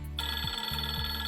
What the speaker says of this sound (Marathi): 2 मिनिटात माझ्या ऑपरेटरचा फोन येईल.